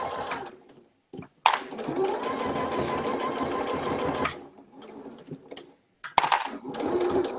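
A sewing machine stitches through the bulky layers of a small fabric wallet, in two close, loud runs of rapid needle clatter broken by a brief stop and quieter handling noise, with short gaps of near silence.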